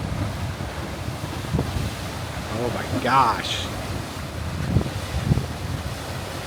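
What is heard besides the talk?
ocean waves churning on the Oregon coast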